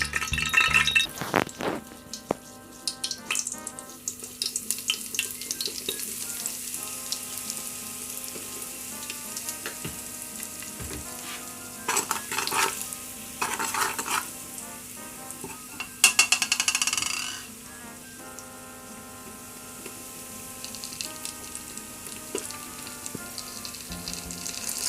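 Curry powder and a piece of Scotch bonnet pepper fry in hot oil in a pot, a loud, close, steady sizzle with occasional clinks and stirring scrapes throughout.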